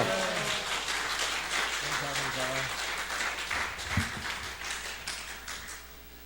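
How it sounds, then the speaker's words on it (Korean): Church congregation applauding and cheering in welcome, a dense wash of clapping held at steady level throughout with voices mixed in and a few louder shouts partway through. "할렐루야로 큰 함성으로 환영하겠습니다"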